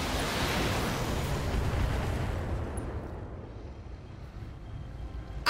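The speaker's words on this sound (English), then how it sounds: "Ammo explosion. Pilot injured." An ammunition explosion on a heavy mech in Battletech lets out a broad, rumbling roar that slowly thins and fades, ending with a brief sharp burst; no voices.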